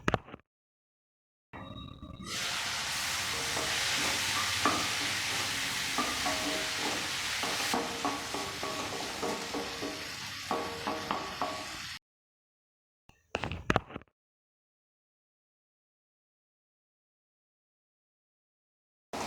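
Tomatoes cook in a covered pan over a medium flame for paneer butter masala, a steady close sizzle with periodic spoon-scraping stirs lasting about ten seconds, followed by brief lid clatter and then silence.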